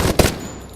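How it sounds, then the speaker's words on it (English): A short, close burst from the R99 submachine gun in the shooter Apex Legends: two quick punchy shots that fade into a brief ringing tail, with no voice over them. "The R99 is another gun you can use."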